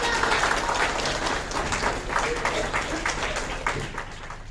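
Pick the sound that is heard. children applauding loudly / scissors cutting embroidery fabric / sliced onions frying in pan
children applauding loudly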